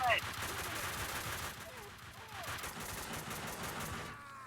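Rapid bursts of gunfire from a Max Payne 2 shootout fill the scene, a dense fusillade of overlapping shots held at steady loudness throughout.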